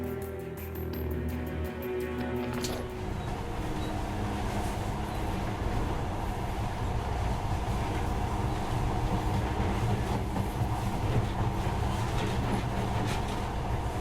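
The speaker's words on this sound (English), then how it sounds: "In the past, trains were ordinary things. But now, this monorail seems magic, doesn't it?" Monorail train from the video game Metro Last Light runs steadily, a loud continuous rumble and rolling drone holding throughout with no talk over it.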